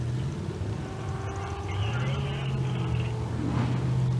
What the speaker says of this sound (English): The 426 Hemi-powered dragster.